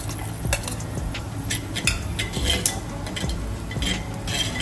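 Chopped garlic sizzles in mustard oil while a utensil stirs and scrapes against the pan, giving repeated clinks and rasps over a continuous frying hiss, close and steady without speech.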